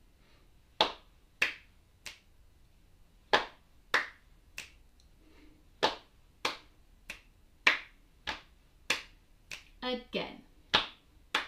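Sharp hand claps in a rhythm during a primary school music lesson, roughly seventeen crisp hits in uneven groups with gaps between phrases, close and fairly loud, with a brief spoken word from a teacher.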